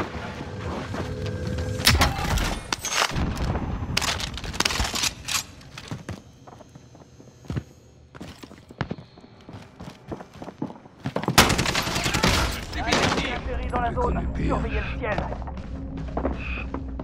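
Gunfire and combat noise from Call of Duty: Modern Warfare, with dense bursts of loud shots and impacts under radio-style voices, easing briefly mid-clip before another heavy volley.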